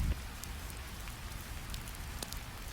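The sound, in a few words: rain dripping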